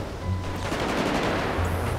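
Bursts of gunfire in the video game GTA 5 during a chaotic roleplay night in the city, a fairly quiet, steady stream of rapid shots with no talking over it.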